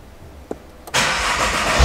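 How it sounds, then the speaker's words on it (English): Salvage Nissan GT-R under rebuild, cranking briefly and then catching into a loud, steady close-up engine run, with no talk. "I'll see if it cranks."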